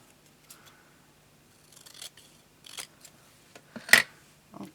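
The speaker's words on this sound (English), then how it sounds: "I'm just going to cut it out a bit" Scissors cut paper for card embellishments in a few sharp, crisp snips, close and fairly quiet, with short pauses between each cut.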